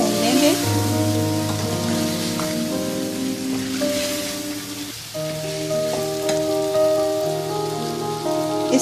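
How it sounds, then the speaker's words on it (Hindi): Spices fry for a chicken karahi with a steady crackling sizzle that runs underneath loud background music. "सारे स्पाइसेस ऐड कर देंगे इसमें। इसको 1-2 मिनट अच्छी तरह से भून लेंगे।"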